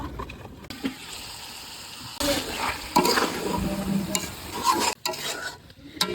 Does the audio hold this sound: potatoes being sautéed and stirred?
yes